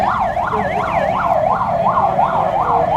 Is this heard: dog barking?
no